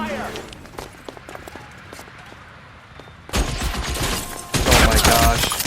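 Gunfire erupts in the video game L.A. Noire during a car chase shootout. Quiet, scattered sounds give way to a dense, loud burst of shots in the second half, growing heavier toward the end.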